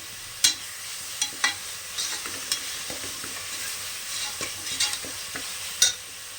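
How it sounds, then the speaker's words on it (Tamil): Ginger garlic paste sautés in a pan for Bangalore-style veg biryani, giving a soft constant sizzle punctuated by sharp spatula scrapes and knocks at irregular intervals, close by with no voices. "நல்லா வதக்குங்க இஞ்சி பூண்டு பேஸ்ட்டோட பச்சை வாசம் நமக்கு போகிற வரையும் தாளிச்சுக்கலாம்"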